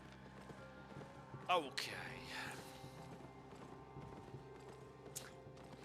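Donkey mount hooves clip-clopping in the video game Albion, a soft, quiet trot of repeated hoofbeats under a faint voice, with a few brighter game sound effects layered in.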